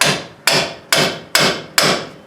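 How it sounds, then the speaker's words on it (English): Five sharp, evenly spaced metal hammer blows drive a pickle fork into an outer tie rod end joint on a Dakota, each strike loud and close with a short ringing decay. "We'll just hammer that in there"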